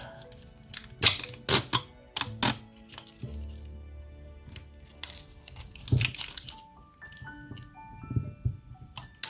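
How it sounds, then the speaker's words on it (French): Scotch tape is pulled off the roll in sharp crackling rips and pressed down onto a macramé feather pattern, a series of close, loud tearing bursts with brief pauses between them. "Puis on fixe tout ça avec notre scotch."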